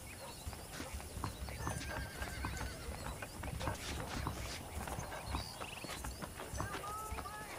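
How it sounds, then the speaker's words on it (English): Saddled horses in the Red Dead Redemption video game clop their hooves in a busy, continuous rhythm and whinny several times, with voices talking underneath. "The horses are saddled up over here."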